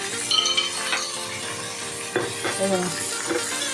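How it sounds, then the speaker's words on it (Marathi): Tomato softening in a pan for a Maharashtrian potato curry, with scattered clinks and scrapes of a spoon against the pan over a low background hiss; a voice speaks faintly now and then. "आता मी टॅमॅटो टाकला ह्याच्यात बघा टॅमॅटो चांगला मऊ करून घेते"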